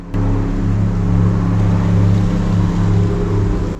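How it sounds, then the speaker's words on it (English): Airboats running somewhere near a tent camping area at Goose Island State Park, a steady low engine and propeller drone that holds without break for the whole stretch, loud and continuous with no talk over it. "Those airboats. I started hearing them about 7:30 this morning."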